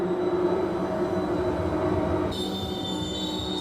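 Train in a TV drama rolling past loudly, a continuous heavy rumble with metallic wheel squeal and ringing tones, close and steady, shifting slightly in pitch partway through.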